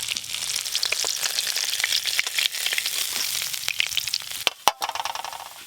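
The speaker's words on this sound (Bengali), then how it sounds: "এইভাবেই সব মাছ ভেজে নেব" River fish fry in oil, a close steady hiss broken by spatters and sharp crackling pops, with a few louder snaps toward the end.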